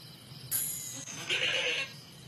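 Goats bleat in two drawn-out, wavering calls, fairly close and loud, with a short gap between them over a quiet outdoor background.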